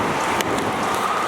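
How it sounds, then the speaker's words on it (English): Heavy rain and gusty wind outdoors make a dense, steady hiss close to the microphone, with a few brief louder spatters and no talking. "It's now still windy and also very rainy."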